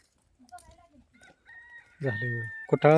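Near the end a rooster crows loudly and close by, a strained, harmonic call that follows some faint clucks and quiet background sounds, with no speech over it.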